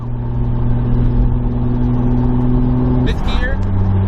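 A Toyota Supra cruising at about 50 mph gives a steady low engine drone heard from inside the cabin, constant and fairly loud, with a brief voice sound near the end.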